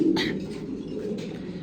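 Grizzle pigeons in a loft, several soft low coos close by over a faint background hum.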